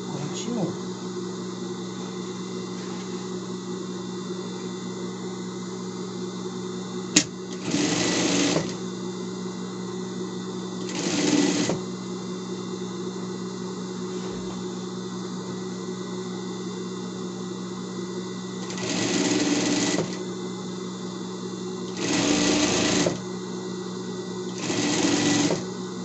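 A sewing machine stitches fabric for a house-shaped pet bed, its steady mechanical hum running throughout with several louder bursts of rapid needle clatter, close up.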